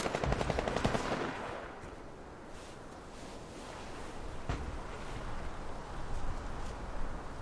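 Sustained bursts of automatic gunfire laying down suppressing fire, loud and rapid at first, then a continuous rattling barrage with echoing, wind-like noise behind it and no talk over it.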